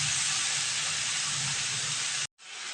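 Ridge gourd in a cumin and poppy seed paste sizzles in a pan, a steady close hiss that breaks off abruptly near the end and then resumes more softly.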